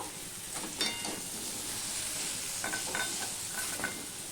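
Pumpkin pieces fry plainly in a pan without salt or turmeric, giving a steady close sizzle broken by a few brief stirring scrapes, with no talking.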